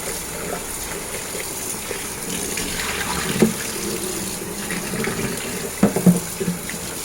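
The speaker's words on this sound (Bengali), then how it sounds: "গরুর মাংসটা ধুয়ে নিতে হবে।" Running tap water splashes steadily over raw beef being washed in a kitchen sink, a continuous close gush with a few louder splashes and clatters near the end.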